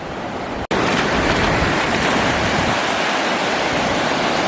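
Sea surf at a beach where a dog is swimming, a loud continuous wash of breaking waves with a wind-like hiss, interrupted only by a brief dropout near the start.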